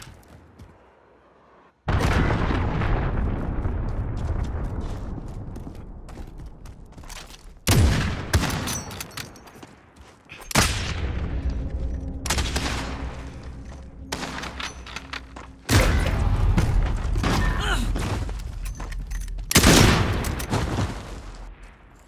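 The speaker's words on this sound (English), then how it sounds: "Enemy cruise missile incoming" Enemy cruise missile strike in Call of Duty: Modern Warfare, a string of five heavy, loud explosions at irregular intervals, each a sudden booming blast that rumbles and decays before the next hits.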